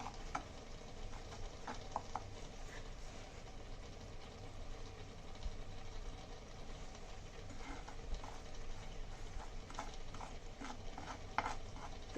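Sugar stirred in a pan as it melts for a homemade cough remedy, a faint continuous scraping and sizzling with light ticking clicks, steady throughout with no talk.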